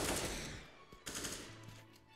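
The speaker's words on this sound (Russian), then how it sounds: "Вот выстрелил вообще мимо" Gunfire in a video game shooter, a dense burst of rapid shots at the start fading into scattered, sharper single reports, loud and close with no talk.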